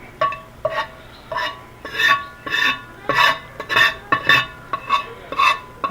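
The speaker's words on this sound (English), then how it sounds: "if the spoon's not knocking the pot, I'm not cooking" A metal spoon knocks against a cooking pot again and again in a quick, steady rhythm, each clank ringing briefly, with no one talking.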